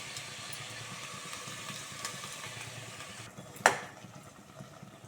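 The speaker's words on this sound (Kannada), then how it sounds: "ಬೇಳೆ ಅದನ್ನ ಹಾಕೊಂಡು ಎಲ್ಲ ಮಿಕ್ಸ್ ಮಾಡ್ಕೊಂಡ್ಬಿಟ್ಟು ಸ್ವಲ್ಪ ಫ್ರೈ ಆಗಲಿ" Lentils mixed into a sambar masala pan keep up a steady, low frying sizzle close by, broken once by a sharp metallic clink of a spoon against the pan near the end.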